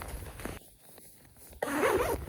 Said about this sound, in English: So the zipper in the front comes with a bottom zipper and a top zipper, which is reversible.